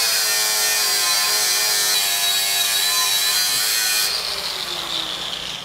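A grinder works on steel to prepare the surface for welding bolts during installation of an arc-weldable strain gauge, a steady loud whine running throughout with no talking, easing slightly toward the end.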